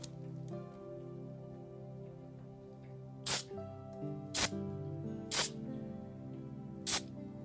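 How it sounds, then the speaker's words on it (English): Four short, sharp hisses of an aerosol can of WD-40 spraying onto wet acrylic pour paint, spaced about a second apart over a low background hum. "Try some WD-40."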